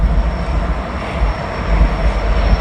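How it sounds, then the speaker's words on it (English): A train rolls through a railway work zone on a hill, producing a steady, heavy low rumble with a faint high whine. The sound stays loud and constant throughout, with no talk. "this train's going to slightly slow down right there"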